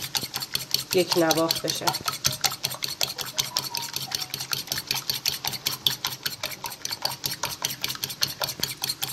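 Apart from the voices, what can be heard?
whisking eggs in a bowl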